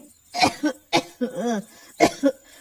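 An elderly woman coughs in several rough, hoarse bursts, close by, with short pauses between them.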